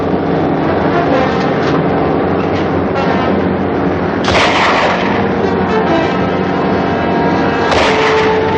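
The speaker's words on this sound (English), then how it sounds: "Grab that rifle and shoot out the light." A rifle fires in a 1951 movie serial, two sharp, loud shots several seconds apart cutting through a dense, constant roar of soundtrack noise with a dull, old-film tone.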